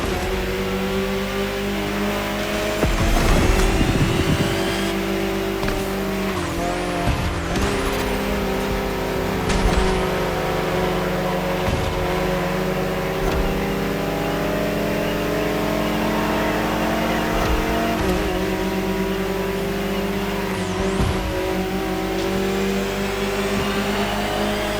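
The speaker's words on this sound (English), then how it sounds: "Incredible to see this stunning concept car in action. This is the hydrogen-powered Alpenblow High 6" The hydrogen-powered Alpenglow Hy6 concept car from The Crew Motorfest video game drives with a steady, loud whining electric-style drone, rising and falling slightly in pitch, with brief whooshes and swells along the way.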